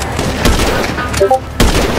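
Sniper rifle gunfire in the video game GTA 5, as loud, sharp shots in quick succession with dense crackling and brief gaps, while players talk over the action.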